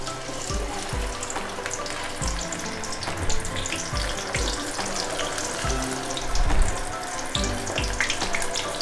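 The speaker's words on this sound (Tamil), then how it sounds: "இதை நம்ம எண்ணெயில போட்டு பொரிச்சிட்டு நம்ம பார்க்கலாம்" White chickpeas dropped into hot oil give a steady, dense frying sizzle with a bubbling, watery texture throughout, with a few louder surges; no one speaks.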